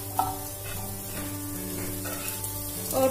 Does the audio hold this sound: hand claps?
no